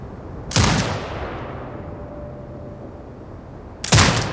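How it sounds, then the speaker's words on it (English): Turret gunfire in the video game Sniper Ghost Warrior Contracts 2: two loud, sharp blasts about three seconds apart, the first trailing into a long decaying rumble and a faint whine before the second hits. "Exit binocular mode and command the turret to fire."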